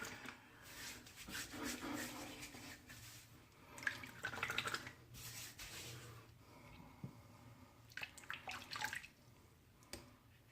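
Faint water splashes and dripping as a shaving brush is wet, with soft rubbing and sloshing in irregular bursts against a quiet background.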